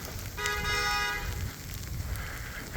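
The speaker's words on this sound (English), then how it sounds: "Niggas is still honking on a snowy day for no reason" On a snowy Brooklyn street during a heavy snowstorm, a car horn gives one brief toot of just under a second, fairly faint against the quiet background hiss of traffic.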